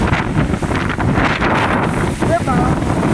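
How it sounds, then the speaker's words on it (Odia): Strong wind gusts buffeting the microphone outdoors, a loud, steady rush and roar that persists throughout, with faint voices underneath. "ଏ ବାବା କି ପବନ ରେ।"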